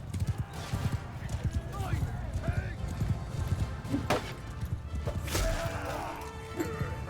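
Horses gallop through a medieval battle in Mount & Blade II: Bannerlord, hooves clattering in dense overlapping beats with clashes and a neigh, while someone talks over it.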